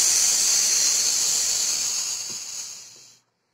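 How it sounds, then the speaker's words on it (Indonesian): A strong wind sound effect gives a steady, bright hissing rush that slowly fades and cuts off just before the end, with no one speaking. "Ternyata itu suara angin yang keras"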